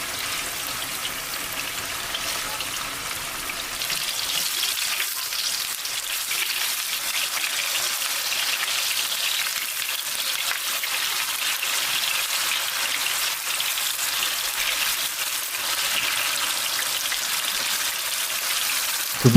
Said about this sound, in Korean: 두부가 앞뒤로 잘 튀겨지도록 해주세요.